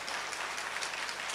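An audience in a church service claps together in a dense, even rhythm, a brief continuous burst filling the room without voices on top.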